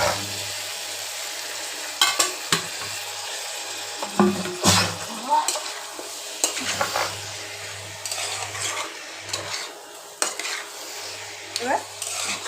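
Sour curd and spices frying in a pan for a Bengali dumur dalna, a steady close sizzle broken by scraping spoon strokes and clinks against the pan, with a low hum underneath and a few quiet murmurs.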